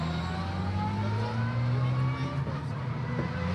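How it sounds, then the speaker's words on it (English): Porsche race cars from the Porsche Sprint Challenge Southern Europe at Portimão roll into parc fermé, engines rumbling and revving at moderate distance, one rising briefly as it passes. "So here come the rest of the cars now."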